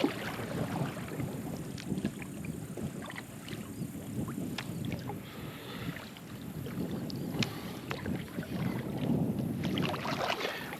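Kayak paddling through a marsh the day after a hurricane, steady water swishes and hull noise under constant wind buffeting the microphone, close and continuous with no talking.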